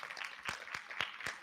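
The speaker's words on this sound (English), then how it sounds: "Let's just give her a clap." Audience applause at a school alumni breakfast meeting, a faint spread of scattered hand claps heard from a distance, with no speech.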